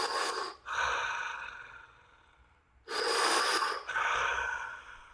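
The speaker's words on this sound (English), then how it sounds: "Deepest breaths ever." Deep, forceful breathing exercise drawing from the lower abdomen up through the chest: two long, loud inhale-exhale cycles with a quiet pause between them, close and with no talking.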